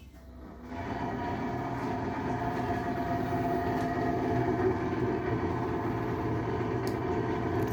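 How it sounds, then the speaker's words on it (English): The fan in a Samsung RS50N3513WW fridge freezer kicks in and settles into a continuous rattling drone with a buzzing hum, steady and fairly loud, with no voices. "which causes the fan to make the rattling noise"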